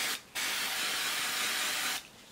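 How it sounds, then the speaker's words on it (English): A single steady hiss of a L'Oreal Colorista temporary hair colour spray can spraying onto natural hair for nearly two seconds, close and fairly loud, then stopping. "I'm gonna spray, like my life depends on it."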